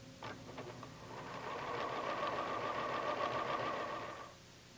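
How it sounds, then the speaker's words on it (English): A PFAFF sewing machine runs steadily, sewing a decorative stitch over cords for about three seconds with a rapid, even mechanical whir and rattle, close and fairly quiet, before stopping. "Lower the presser foot and sew."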